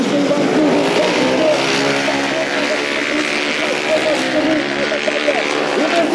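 Ice speedway motorcycles at a Russian Cup round in Vyatskiye Polyany race with engines roaring continuously, a loud sustained snarl with shifting pitch under a commentator's excited talk.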